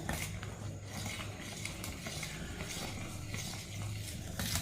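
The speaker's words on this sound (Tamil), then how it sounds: "இதை வந்து நல்லா நம்ம கை விடாமல் கிண்டணும்." Ragi flour boiling in a pan is stirred steadily, a continuous scraping churn with light utensil clinks and a soft bubbling sizzle underneath, close and even throughout.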